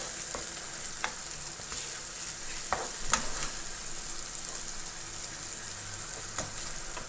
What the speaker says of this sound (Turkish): Güzel bir aroması çıkana kadar kavuralım.